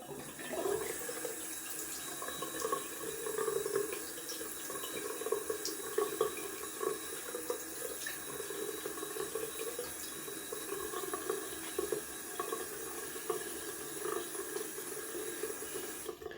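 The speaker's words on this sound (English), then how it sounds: "We're gonna rinse off with cold water." Steady running cold tap water splashing into a sink for rinsing after a wet shave, continuous and fairly close, with no voices.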